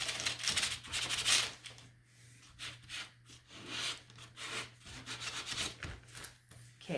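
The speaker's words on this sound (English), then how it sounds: "I'm just gonna try and not lift my sandpaper too much so it doesn't catch on those edges." A painted wooden bird is sanded by hand with sandpaper, giving close, scratchy rubbing strokes in uneven bursts over a low steady hum.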